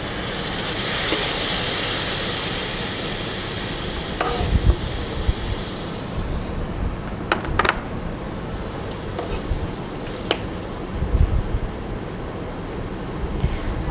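Glass noodles stir-fried with fresh shrimp in a Thai-style pan after a little water is added and brought to a boil: a soft, steady sizzle and bubbling, broken by occasional scrapes and clinks of the stirring utensil.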